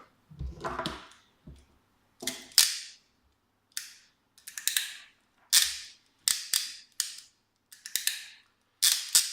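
OEM electrical connector plugs on motorbike wiring for a tail tidy are pushed together and pulled apart, giving a series of sharp, close clicks and snaps at irregular intervals with silence between them.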